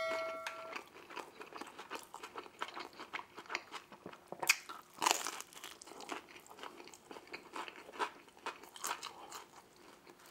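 Close-miked eating of Little Caesars deep dish pizza and buffalo wings, with crisp crunchy bites and wet chewing in irregular bursts and a louder crunch midway, no talking.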